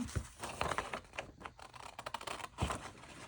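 Scissors snip through paper pieces for a neon flip pocket craft, a quick run of close, crisp cuts and rustles with short pauses between strokes.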